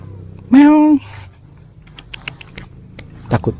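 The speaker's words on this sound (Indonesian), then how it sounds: "Takut, kucingnya takut." A cat gives one loud, clear meow near the start, followed by quieter rustling and light clicks and a brief voice toward the end.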